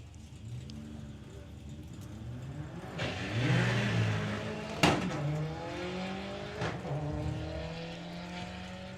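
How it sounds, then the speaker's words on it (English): A Golf GTI accelerates hard off the line at a drag race, its engine note climbing through gear changes before fading off, with another engine audible at a distance. "Going alongside Nigel Gregson with the Golf GTI"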